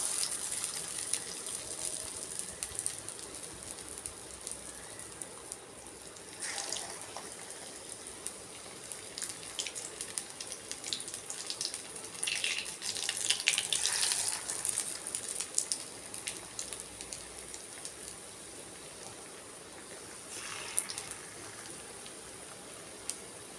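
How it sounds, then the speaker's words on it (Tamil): Potato bondas fry in hot oil with a continuous soft crackle and sizzle, punctuated by a few brighter bursts of spattering, fairly faint and steady with no voices. "அந்த உருண்டை வந்து உதிராமல் அப்படியே எண்ணெயில் போடணும்."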